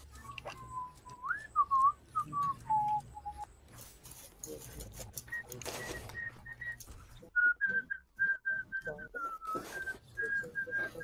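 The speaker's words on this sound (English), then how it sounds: "Whoever's whistling, stop flexing on me." A person whistles a wandering melody in bursts of short notes and slides, heard fairly close over a faint background hum, with a few clicks and a brief spoken moment partway through.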